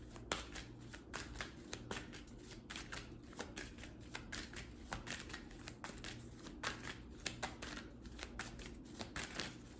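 Oracle cards shuffled by hand for a reading, a steady run of crisp riffling and snapping card flicks close up, repeating in quick bursts with no talking.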